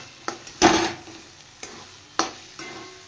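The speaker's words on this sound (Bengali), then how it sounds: "মশলা কষানো হয়ে গেছে," Spice paste frying in oil for a katla fish curry, with a few bursts of stirring and sizzle rising and fading against a low kitchen background.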